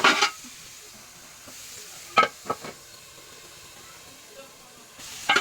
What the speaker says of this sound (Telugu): వాటర్ మొత్తం ఇంకేంత వరకు మనం అలా ఫ్రై చేస్తూ ఉండాలి